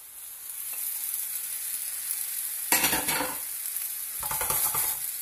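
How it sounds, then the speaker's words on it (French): Shrimp go into a pan over low heat alongside cherry tomatoes, setting off a steady, close sizzle of frying with a couple of louder bursts as they hit the oil and are stirred. "Et là, je plonge mes crevettes."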